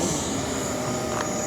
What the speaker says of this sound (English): a great example to show you what ND filters do just happened to me when I landed the drone